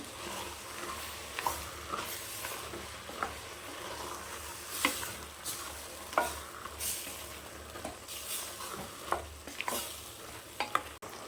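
A mushroom biryani mixture boils, bubbling and sizzling steadily in a pot, with repeated scraping clicks of stirring over the continuous cooking noise.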